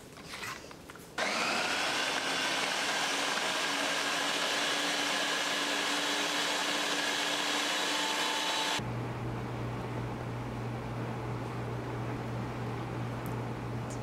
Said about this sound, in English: I'm using a Ninja food processor